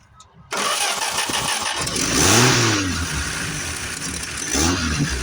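A 1978 Dodge short box truck engine cranks briefly, then catches and fires up, running rough with rising and falling revs, close and loud, while people talk over it.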